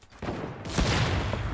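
Rapid burst of automatic gunfire in a Fortnite battle royale match, sharp dense volleys beginning quietly then growing louder and continuous after a brief opening, with no talking.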